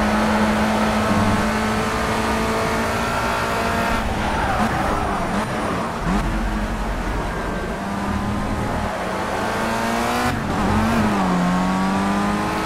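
A racing car engine in the game Project Cars drones loudly and steadily, its pitch dipping as the throttle eases off and then climbing again as it revs back up.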